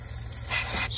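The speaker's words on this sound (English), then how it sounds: "spray it down a little bit" A short, close hiss from a spray bottle as cleaner is sprayed onto the smart junction box of a 2008 Ford Mustang GT convertible, a single brief burst with no talking.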